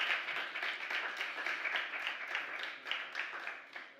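Audience applause fills a conference pavilion during a climate-summit session on equality and just transition, a dense, steady wash of many hands clapping that continues at even strength for several seconds.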